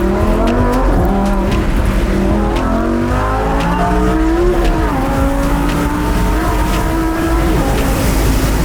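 Lamborghini Huracan driving in Corsa mode: a loud, close engine roar that revs up through repeated rising pitch sweeps with gear changes, a constant heavy drone beneath.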